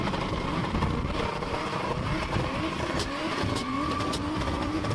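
A Toyota Supra's engine roars continuously as the car accelerates hard on a street, loud and sustained with rising engine tone over broad road and crowd noise.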